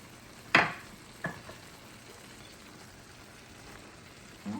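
Chopped onion hits a pan of frying chicken gizzards with a sharp sizzle burst, followed by a smaller hiss and faint stirring against a low background fry.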